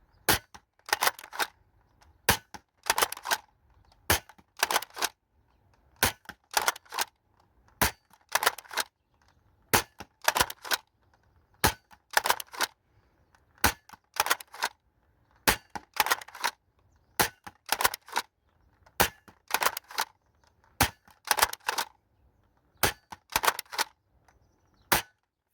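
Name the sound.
Dart Zone Stryker toy blaster firing foam darts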